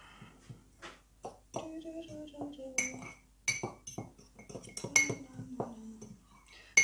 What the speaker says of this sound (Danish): Så tager vi lige en gaffel og rører det lidt sammen her.